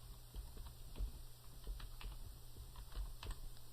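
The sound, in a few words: typing a search keyword on a computer keyboard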